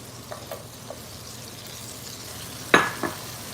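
Celery frying in butter in a pan, a soft continuous sizzle with a few light utensil taps and one sharper clatter of stirring near the end, close and fairly quiet.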